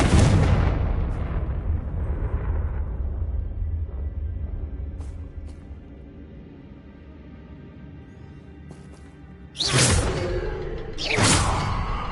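Fire spells are cast in the Hogwarts Legacy video game: a loud roaring burst that trails into a low rumble, then two sharp whooshing blasts near the end, with no talking.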